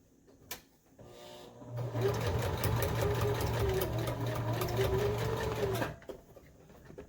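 Sewing machine stitching across a front panel, a steady close whirring run of about five seconds with a rhythmic needle patter, starting and stopping cleanly between quiet handling sounds.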